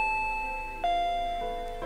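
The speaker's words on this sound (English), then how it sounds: "That chime signaled that Rena had arrived." Two-tone electronic doorbell chime in the Higurashi visual novel game announcing Rena's arrival, a clear ding followed by a lower dong, repeated once, sounding alone over a quiet background.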